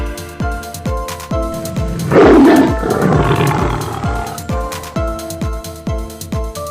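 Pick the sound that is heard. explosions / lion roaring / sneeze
lion roaring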